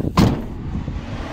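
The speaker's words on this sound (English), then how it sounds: "And then shut the back doors up" Back doors of a camper van swung shut, one solid thud up close followed by a low rumbling tail.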